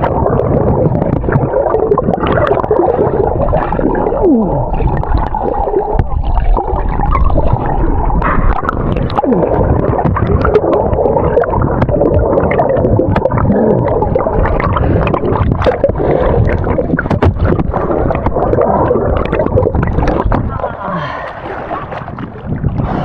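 Strong sea waves churn and slap around a small boat, with loud buffeting wind and sloshing water throughout and occasional voices, easing slightly in the last few seconds.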